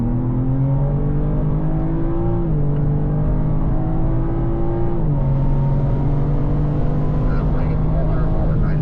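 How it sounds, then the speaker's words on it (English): BMW cars at a driving performance school pass at full throttle, producing a loud, steady engine drone whose pitch steps down and back up as the cars hustle by. "Other two cars hustle past the full throttle."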